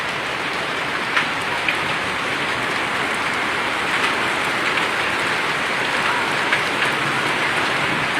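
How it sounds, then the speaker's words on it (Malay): Steady dense pattering of hail on surfaces in Aceh Besar, Indonesia, a continuous broadband hiss with occasional sharper impacts, no voices. "Kami di Lamkling hujan es hari ini."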